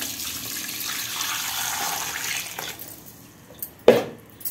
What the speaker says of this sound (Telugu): శుభ్రంగా కడుక్కోవాలి నీళ్ళు పోసి.